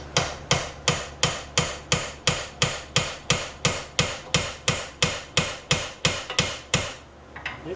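A hammer strikes a chisel to drive out a lower control arm on a 1995 Chevy Tahoe 4x4. Close, loud metallic blows repeat in an even rhythm, about three per second, around twenty in a row with no voices.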